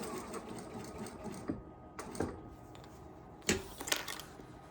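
A sewing machine stitches a fabric dining scarf in short bursts of needle clatter separated by pauses, close and moderately loud, with faint clicks between runs.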